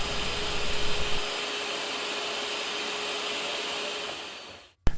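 Power saw cutting a piece of wood in half, a loud steady broadband whine that tapers off and stops near the end, heard close and alone.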